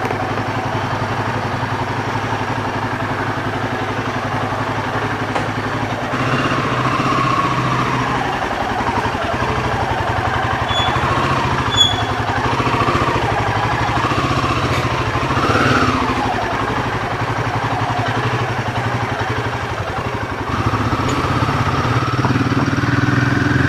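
Motorcycle engine running steadily on an early Sunday morning ride out of Kolkata toward Burul, a constant mid-pitched drone with slight rises, heard close with no talk.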